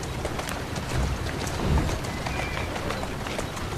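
A horse in the video game Assassin's Creed Syndicate clip-clops steadily through a dense, noisy ambient game soundscape, its hooves moderately loud and close.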